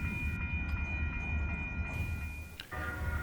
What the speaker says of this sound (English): It was a pretty long train.